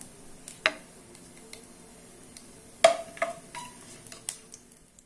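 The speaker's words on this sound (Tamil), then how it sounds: "இப்போ எண்ணெய் சூடாயிருச்சு. இதில் வந்து பார்த்தீங்கன்னா நான் 2 பிரியாணி இலை, 2 பட்டை, 2 ஏலக்காய், கொஞ்சோண்டு சோம்பு, மராட்டி முக்கு, அன்னாச்சி பூ எல்லாம் போட்டிருக்கேன். இது பொரியட்டும்" Whole spices for tomato biryani (bay leaves, cinnamon, cardamom, fennel, marathi moggu, star anise) frying in hot oil, heard as scattered sharp crackles and pops over a quiet, low background.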